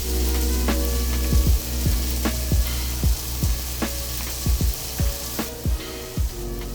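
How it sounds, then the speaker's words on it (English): Tortillas warm in a pan over a steady loud hiss and sizzle, with regular thumps and taps roughly every half second as they are pressed or turned. "Now let's warm up our tortillas."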